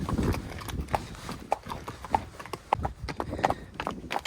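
A horse walks on hooves in a steady clip-clop rhythm, each hoof strike crisp and close, while a person's voice is faintly audible in the background.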